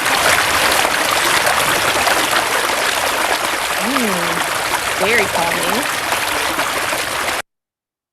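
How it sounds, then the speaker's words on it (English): Forest creek water flowing steadily with a continuous broad rushing and trickling wash, close and even, while someone speaks briefly over it before it cuts off. "Here is a Forest Creek nature sound."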